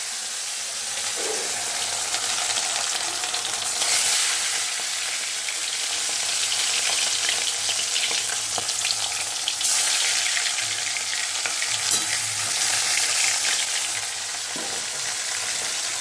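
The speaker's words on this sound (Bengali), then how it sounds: "তো চলো মাছগুলো ভেজে আবার তোমাদের কাছে চলে আসছি।" Bhola fish, rubbed with salt and turmeric, fry in oil in a kadai with a loud, continuous close-up sizzle that swells and eases over the length, with occasional soft clinks and no voices.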